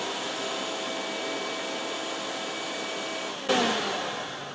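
A vacuum cleaner runs in a woodworking workshop, a steady whining drone that holds at a constant level and then jumps slightly louder near the end as if switched up or starting.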